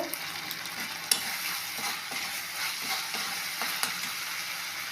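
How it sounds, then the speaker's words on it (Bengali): Vegetables for veg Manchurian sizzle in a hot pan with soy sauce, a steady frying crackle broken by repeated clinks and scrapes of a spoon stirring, with no talk. "দিয়ে এটাকে ফ্রাই করব"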